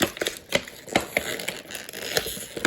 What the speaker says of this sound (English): I apologize for all the crinkling, folks.